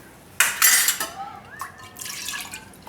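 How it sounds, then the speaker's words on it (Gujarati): Water poured into a pressure cooker holding soya sambhar with dal, a close splashing gush followed by light trickling, sloshing and a metal clink. "તો અને આપણે હજી પાણી નાખીશું."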